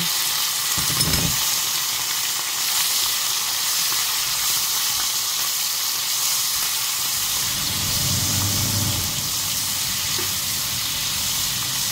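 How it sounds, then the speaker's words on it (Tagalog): Pork liver sizzles loudly in a hot pan with toasted ginger, a steady broadband hiss holding throughout, with a couple of brief low stirring thumps beneath it. "Ngayon, tostado na, ilalagay na natin yung ating liver."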